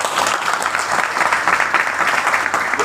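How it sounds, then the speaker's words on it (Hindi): A crowd at a political rally of Gondwana Gantantra Party and BSP supporters claps in steady, dense applause, loud and close, holding at an even level from start to finish. "आपको आप ताली बजाना चाहिए"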